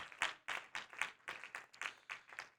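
A church congregation claps together in a steady quick rhythm, soft and somewhat distant, each clap landing about four times a second.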